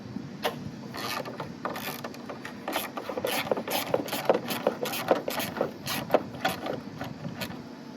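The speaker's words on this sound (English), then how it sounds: "And I've got my Snap-on ratchet." A Snap-on ratchet turned in quick repeated strokes, giving close, rhythmic clicking and rasping bursts while working on a Hyundai, with no talking.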